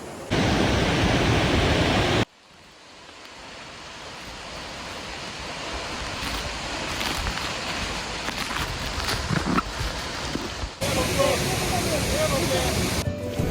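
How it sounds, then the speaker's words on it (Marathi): Water of the 350-foot Shitkada waterfall crashes down in a steady, loud roaring rush, dense and continuous, with a few abrupt shifts in level as it pours close by. "धबधब्याचं पाणी आपल्यावर कोसळतं"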